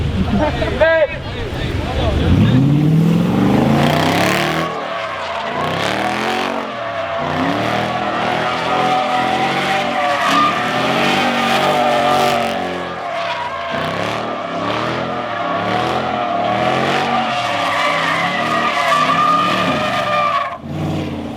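A car does a burnout in a pit area, its tires skidding and squealing in a loud, sustained screech over a roaring engine, with people talking and shouting nearby.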